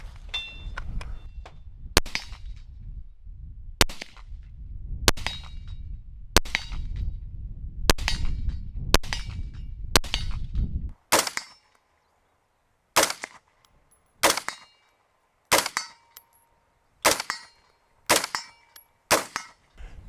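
A SIG firearm fires at steel targets on a shooting range, a series of sharp gunshots, each followed by a ringing metallic clang, first quickly over background noise and then spaced out in a quieter stretch.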